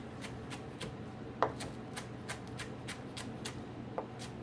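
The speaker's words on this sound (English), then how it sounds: "I'm going to cut the tips and tails off my green onion, also called a scallion." A knife on a cutting board slices green onion (scallion) into small rounds, making soft, steady, evenly spaced taps about three per second. The chopping is quiet and close, with no talking.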